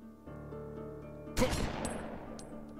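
A sharp burst of gunfire erupts in Omerta: City of Gangsters, a sudden loud crack that cuts through soft, steady tones and then trails off in a rough, fading rumble.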